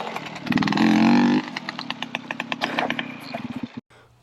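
A Kawasaki KX 250 dirt bike engine revs hard, a loud, steady buzzing drone that rises to a held peak, then drops into choppy, uneven pulses of throttle before cutting out near the end.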